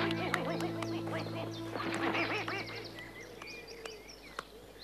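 A goose quacking in an animated German children's series, a run of loud nasal honks and quacks up close over a steady musical or ambient bed, without speech.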